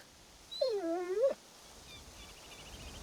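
In the video game Assassin's Creed Shadows, an injured dog gives one drawn-out, wavering whimper, close and clear against a quiet background, followed by a faint, softer whine.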